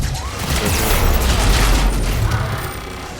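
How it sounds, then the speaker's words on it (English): A grenade explodes in the video game Mass Effect 3, a loud, dense blast with a heavy low rumble and debris-like crackle that swells and slowly fades over a few seconds. "Grenade."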